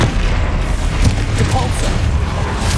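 Repeated booming blasts from the Confringo explosion spell in Hogwarts Legacy on PS5, loud and close amid ongoing combat effects, with a voice speaking spell names over them.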